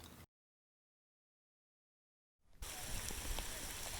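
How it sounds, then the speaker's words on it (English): Light rain falls outdoors on a mountain-biking photo shoot, a steady soft hiss of drops that fades in after a stretch of dead silence and carries on evenly. "And then it started raining a bit."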